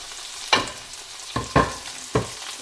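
Onions, tomatoes and spice powders fry in a pan for aloo baingan sabzi. Four sharp sizzling bursts come as the mixture is stirred, each fading between stirs, with no talking.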